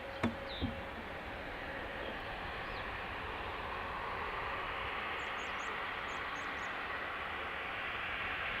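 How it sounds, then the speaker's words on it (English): A Challenger business jet takes off at Dublin Airport, its engine roar a steady, distant broadband rumble that holds faint and even throughout, with a couple of brief clicks at the start. "Challenger, south side, about to take off for Keflavik"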